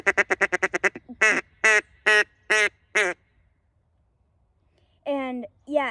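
Duck Commander Shadow single-reed duck call blown close up: a fast run of short quacks, then four longer drawn-out quacks, a pause, and two more loud quacks.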